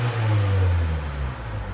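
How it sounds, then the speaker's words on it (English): A 2023 Hyundai Santa Cruz revs with its exhaust cutout valve closed. A subdued low rumble rises briefly and then eases off, steady and close by, with nothing else over it. "Here's sound decibels with it closed."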